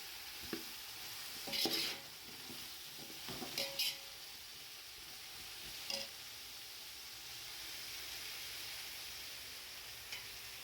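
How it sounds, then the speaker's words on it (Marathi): A spoon scrapes and stirs vegetable biryani in a large pot in intermittent bursts, with a faint sizzle and quiet stretches between strokes. "छान मिक्स करूया एक किलोची बिर्याणी"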